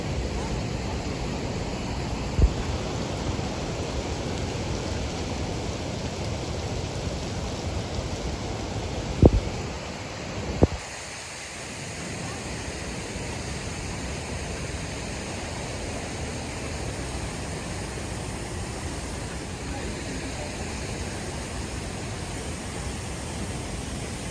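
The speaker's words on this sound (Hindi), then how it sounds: "ये है दोस्तों क्रांगसुरी वाटरफॉल ऊपर वाला स्टेप।" Steady broadband rush of the Krangsuri waterfall's upper step in West Jaintia Hills, Meghalaya, an even roar throughout with a couple of brief knocks nearby and a short dip partway through, no talking.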